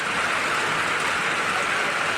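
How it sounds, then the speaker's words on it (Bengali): Heavy rain falls on a roadside in a village in Sylhet during a sudden storm, making a steady, dense hiss that stays even and close throughout, with no voices. "বাড়ি যেতে পারছি না বৃষ্টির কারণে প্রায় ঘন্টা যাবৎ বৃষ্টি"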